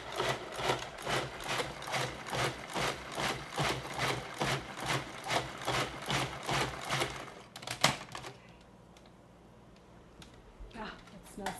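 A food processor pulses duck sauce made with fruit preserves and ginger in quick, regular motor bursts, about two to three a second, that run for several seconds and then stop, leaving near quiet and a faint clunk.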